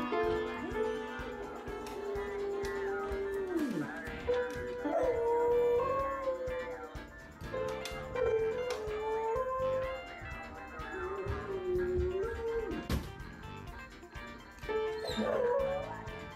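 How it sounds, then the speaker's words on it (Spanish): A dog howls and whimpers in long, wavering, sliding tones while piano notes play along, the howls continuing close and loud for the whole stretch. "El perro toca el piano y la nena sí está bailando."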